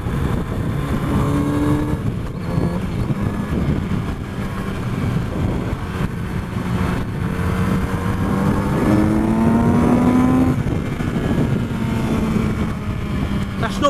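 A Kawasaki Z900RS motorcycle accelerates through rising engine pitches with gear changes, the steady drone of riding and wind underneath while a rider talks over much of it.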